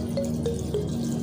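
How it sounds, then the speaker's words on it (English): Hot water is poured over water leaves for soup, giving a short splashing, dripping liquid sound with light trickles, close and clear with no talk. "so into that I will pour in this hot water."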